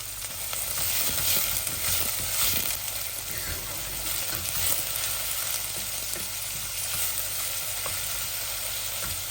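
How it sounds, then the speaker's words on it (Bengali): Onion and garlic fry in oil with a soft, steady sizzle that runs throughout at a fairly faint level. "আমি গার্লিকটা লাল হয়ে যাচ্ছে, আমি এখন অনিয়নটা ঢেলে দিচ্ছি"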